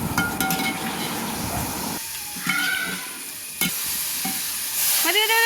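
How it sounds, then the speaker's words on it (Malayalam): Water poured into a hot pan of chicken curry with fried chicken and tomato masala, giving a loud sizzle that hisses and crackles, then drops away, followed by spoon clinks and a final burst of steam. "ഇതിലേക്ക് കുറച്ചായിട്ട് വെള്ളം ഒഴിച്ച് കൊടുക്കുക."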